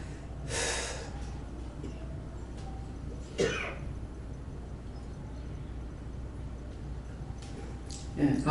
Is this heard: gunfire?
no